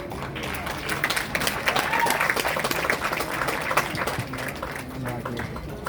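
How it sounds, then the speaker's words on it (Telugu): An audience at an event applauds steadily and fairly loudly. The clapping is dense and sustained throughout, with crowd noise and some voices mixed in. "యా గట్టిగా క్లాప్ చేసి వెళ్ళిపోవచ్చు."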